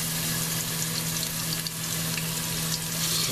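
Pork loin steaks fry in a hot pan, giving a steady, close, dense sizzle with a constant hum beneath, and no talking.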